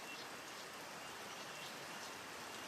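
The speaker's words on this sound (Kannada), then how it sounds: "ಸಿಕ್ಕಾಪಟ್ಟೆ ಜೋರಾಗಿ ಮಳೆ ಬರ್ತಿದೆ ಗೈಸ್" Heavy rain pouring down at a private pool villa, a dense, unbroken hiss of falling drops that stays steady and fairly distant throughout, with no voices.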